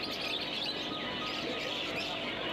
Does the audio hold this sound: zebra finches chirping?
yes